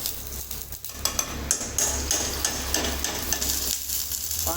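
Food roasting in a pan in a Gujarati village kitchen while dal bati is cooked, giving a steady loud sizzle with scattered scrapes and clinks of stirring throughout.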